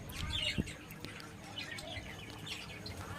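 A flock of budgerigars chirps and twitters continuously in a shared cage, many overlapping quick high chirps at moderate distance.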